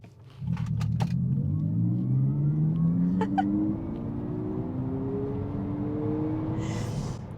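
An electric Abarth 600e pulls away and speeds up, its imitated engine tone rising steadily in pitch, with faint road noise and no talking.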